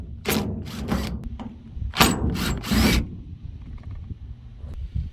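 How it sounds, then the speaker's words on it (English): Phillips head screws are backed out of the filler tube on a 1976 Ford F150, with two quick sets of three short mechanical whirring bursts, close by, separated by quiet handling clatter. "Got 3 Phillips head screws. I got them out."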